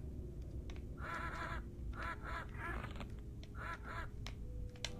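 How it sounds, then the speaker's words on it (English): Ducks quack in the 1995 3DO game Killing Time, several bursts of nasal quacking in quick clusters over a steady low ambient rumble, moderately quiet. "Are you wasting ammo on ducks?"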